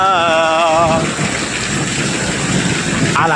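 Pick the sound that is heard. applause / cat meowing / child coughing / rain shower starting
rain shower starting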